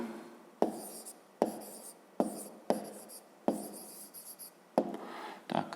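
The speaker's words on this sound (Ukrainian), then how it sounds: "Ну і тепер записуємо відповідь." A pen or pencil scratches out an answer to a grade-5 math exercise on paper: six distinct strokes or short words in a steady rhythm, close and quiet, with no talk.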